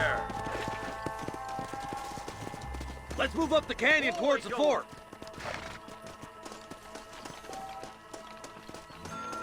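Horse hooves clatter in a rapid galloping rhythm in the Red Dead Redemption video game, rising loudly midway amid game music while someone speaks over the start.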